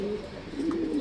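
Pigeons in a loft give a soft, low, drawn-out coo, close and steady, over a faint background hum.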